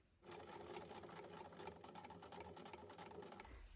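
A sewing machine stitches across fabric for an Easter bunny gift bag, starting after a short pause and running in a fast, steady rapid-fire clatter until the end, close and alone with no speech.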